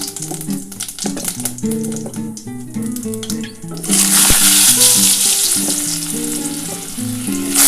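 Potatoes hit hot mustard oil seasoned with whole cumin, bursting into a loud, dense sizzle partway through that keeps frying steadily, following quieter clinks and stirring sounds, with no talking.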